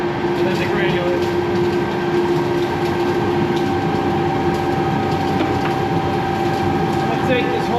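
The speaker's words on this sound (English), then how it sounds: "and then the granulator." Plastic granulator with its blower running, processing plastic blocks through a 6 mm screen: a loud, steady industrial roar with a constant hum and mechanical rattle throughout, no pauses.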